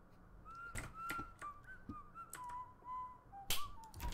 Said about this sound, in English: We've heard this whistle so many times now.